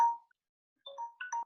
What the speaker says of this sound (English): Yeah, there's my phone.